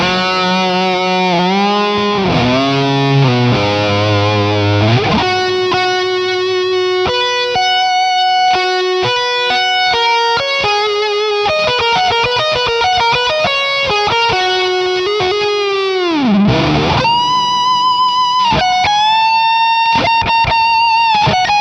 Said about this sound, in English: Kind of hear how big that reverb is.